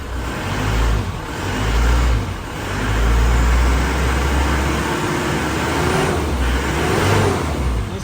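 A 2003 Isuzu Panther Touring with automatic transmission idles outside with its air conditioning on, a steady low engine drone with gentle rises and falls and a faint airy hiss over it.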